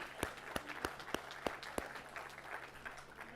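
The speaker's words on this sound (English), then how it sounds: "Can we give him a good round of applause?" A small crowd gives a brief round of applause for a guest at a live event, a quick burst of sharp claps up front that thins into scattered clapping.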